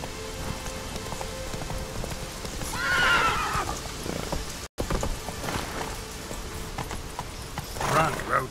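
Roach, a horse in The Witcher 3: Wild Hunt, gallops with rapid hoofbeats through steady rain and lets out two loud neighs, a voice talking over parts of it.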